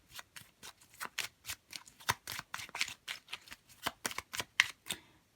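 A deck of oracle cards riffled and shuffled by hand, giving a steady run of crisp, papery bursts close to the listener with no talking.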